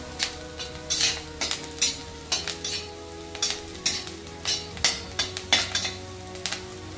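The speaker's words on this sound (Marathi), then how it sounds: "हा आपला असंच मिरच्यामध्ये टाकून देऊन याला एकदम बारीक गॅसवर आपल्याला असं हलवून घ्यायचा" Curry leaves and chillies stirred in a pan over low heat while roasting poha, giving a soft steady sizzle broken by frequent clinks and scrapes of the spoon against the pan.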